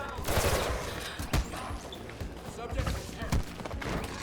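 Gunfire from an armed guard in the parkour game Mirror's Edge Catalyst, scattered sharp shots and a few heavier thuds among footsteps and movement, fairly faint, with a person talking throughout.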